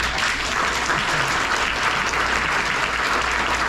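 Audience applause fills a public Q&A meeting, a dense, steady wash of many hands clapping at close range that holds evenly throughout with no voices over it.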